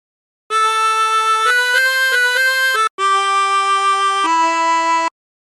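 A harmonica plays a phrase of Battle Hymn of the Republic as a string of clear, sustained blown and drawn notes, loud and close, with one short breath gap partway through.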